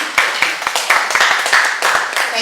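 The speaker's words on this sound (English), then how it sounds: "please keep the round of applause going" A live audience at a community campaign meeting gives a round of applause, with dense, steady clapping and sharper individual claps throughout, fairly close and sustained without speech.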